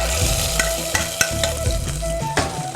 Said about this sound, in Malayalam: അണ്ടിപ്പരിപ്പ് മൂത്ത് കഴിഞ്ഞ് അത് നമ്മൾ പായസത്തിലേക്ക് വീണ്ടും ഇടുക